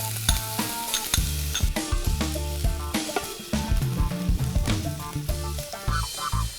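Chopped garlic sizzling and crackling in hot olive oil in a pan, a dense, close frying hiss broken by stirring scrapes. Some music plays in the background.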